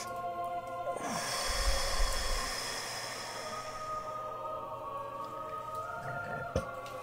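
A deep breath during guided meditation, one long breathy inhale followed by a slower release over a steady background hum, close and fairly quiet, with no talking.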